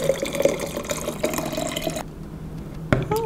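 Boiling water is poured into a container of paraffin, a close trickling and gurgling fill that thins out near the end, followed by a couple of small knocks.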